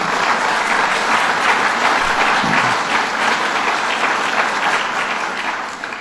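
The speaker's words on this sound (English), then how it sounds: "Let's give him a round of applause." Sustained applause from a crowd at a public bill-signing event in Buffalo, steady and dense for several seconds before tapering slightly at the end.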